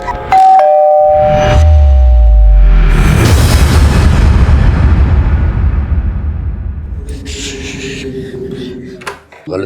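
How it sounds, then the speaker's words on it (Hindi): A loud, deep boom erupts and rolls on for several seconds, its low rumble slowly fading, after a brief electronic chime at the start. "आपके घर से बड़े जोर के धमाके की आवाज आई है"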